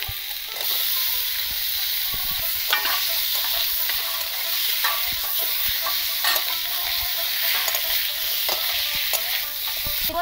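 Chili and coriander powder fry with potatoes in hot oil for a Bengali rui fish curry, giving a loud, steady sizzle with scraping stirs throughout, close and without talk.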